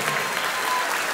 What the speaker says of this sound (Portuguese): Palmas pra esse round!